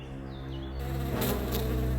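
A swarm of bees buzzes loudly and continuously close by, a dense droning hum that swells and thickens partway through.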